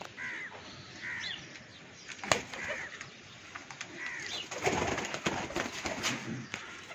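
Tournament pigeons coo softly among other bird calls and caws, with a steady outdoor background and a few sharp knocks.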